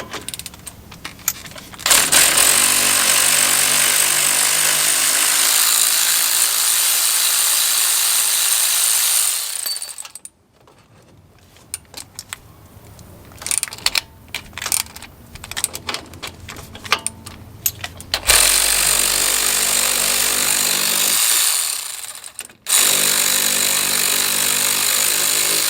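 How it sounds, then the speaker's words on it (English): Power tools loosening the 15 mm lower shock bolts on a 6.2 Denali truck: loud, close whirring impact-tool bursts, then quieter ratcheting and clanking, then another sustained loud tool run. "now I'm just going to remove our lower shock bolts"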